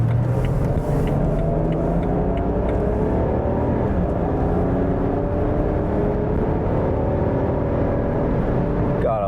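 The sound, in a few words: car engine and powertrain while driving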